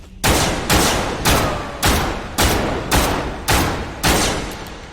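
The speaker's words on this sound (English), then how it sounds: "I can shoot, but shoot off parts of it." Gunfire shooting parts off a target in a video game, seven heavy evenly spaced shots about every two-thirds of a second, each loud and close with a decaying boom, and no talking.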